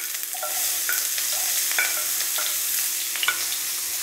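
Onions and dried red chillies spluttering in hot oil as a tempering for drumstick-leaf dal thoran, a steady close sizzle with scattered crackles and light stirring scrapes, no voices.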